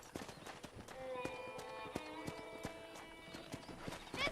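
Steady clip-clop of horse hooves in Red Dead Redemption, evenly paced and fairly close, with sustained tonal game music or ambience layered over the hoofbeats.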